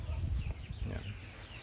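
Two Asil chickens clucking close by, a few short low clucks in quick succession followed by a quieter stretch.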